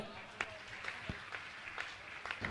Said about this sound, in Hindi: आप जोरदार ताली बजाकर